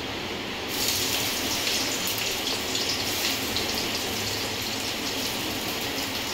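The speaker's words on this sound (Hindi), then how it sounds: "हो गया गरम, सबसे पहले इसमें डालेंगे प्याज।" Two medium onions drop into hot oil on a high flame for a noodle dish. A steady, loud sizzling hiss starts abruptly under a second in and continues evenly to the end.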